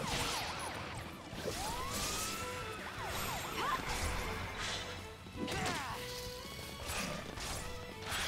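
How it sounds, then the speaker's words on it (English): Police sirens blaring in Final Fantasy XIII, wailing and sweeping pitches layered with crashes and impacts of combat, continuous and fairly busy throughout. "It's hard to hear with these sirens blaring in the game."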